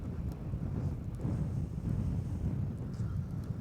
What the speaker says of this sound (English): This wind is ridiculous.